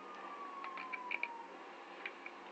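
A police siren in the video game GTA 5 wails faintly in the background, its single tone sliding slowly downward, with a few short bright blips scattered over a steady low hum.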